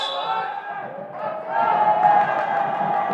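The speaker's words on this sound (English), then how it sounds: "For the limited crowd, it's pretty loud in here, I would say." A small but loud crowd at a high school rivalry basketball game, voices shouting and cheering in a gym, swelling midway and staying busy with a raised, echoing roar.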